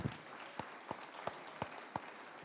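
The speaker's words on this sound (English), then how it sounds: "Give yourself a round of applause." A benefit auction crowd applauds. A handful of sharp, distinct claps stand out at a roughly even pace over a low, steady wash of room noise, briefly and without speech.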